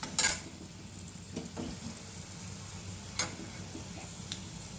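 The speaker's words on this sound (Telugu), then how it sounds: "పోపు రెడీ అయిపోయింది. మనం తాలింపు చేసుకుందాం." Tempering sizzle being prepared for a sesame, coconut and coriander chutney, a quiet crackle in the pan with a few sharp pops and ticks of a utensil against the pot.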